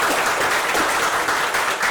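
A church congregation applauds in a steady, dense burst of clapping from many hands, loud and close, lasting about two seconds with no speech over it.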